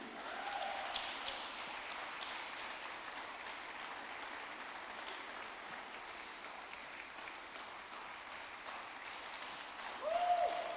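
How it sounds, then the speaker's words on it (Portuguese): Church congregation applauding during a Santa Ceia worship service, a faint, distant, steady patter of many hands clapping with no voices on top. "Uma salva de palmas para Jesus."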